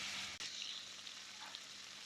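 Food frying in a pan, a steady soft sizzle holding evenly throughout with a brief dip near the start, quiet and alone with no talking.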